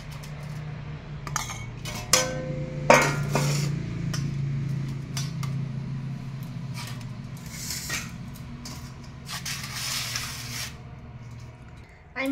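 Cooked rice is served from a pot onto a metal plate, with close scraping and clinking of a serving spoon against metal, soft squishy rice sounds and occasional voices in the background.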